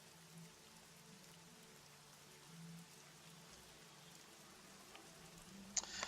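Heavy rain falls in a soft, steady hiss of scattered drops, faint and even, with a few slightly louder taps near the end and no talking.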